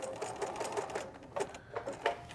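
Sewing machine stitching down a cord on a quilt for binding, a short run of quick rhythmic needle clatter, close and moderately loud, no talking.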